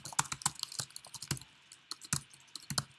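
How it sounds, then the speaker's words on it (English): Typing into a text file on a computer keyboard: crisp, close keystrokes in uneven bursts with short gaps, fairly quiet and with no talking. "And then in the text file, write Randy is awesome"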